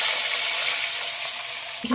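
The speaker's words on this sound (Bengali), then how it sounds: "ভাজার জন্য পটল দিয়ে দেবো।" Pointed gourd (potol) dropped into hot oil left from frying fish, a loud dense sizzle close up that hisses steadily for two seconds before a brief utensil clink at the end.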